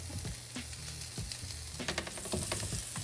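French toast sizzling and frying in butter and oil in a hot skillet, a steady close crackle with brief spatters and a soft clatter of a utensil partway through.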